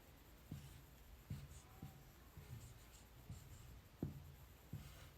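Chalk or a marker taps and strokes on a classroom board during a lesson on inclined planes, about eight short, faint, evenly spaced knocks in a quiet room.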